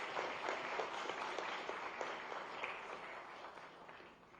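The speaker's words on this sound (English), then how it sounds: "Please give them a round of applause." Dense audience applause at a ceremony for state government agreements with companies, many hands clapping continuously before gradually thinning out, heard from within the hall.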